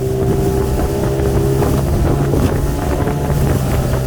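A small boat with a Yamaha 15 horsepower outboard runs on plane across choppy water, its engine droning loud and steady under gusting wind buffeting the microphone.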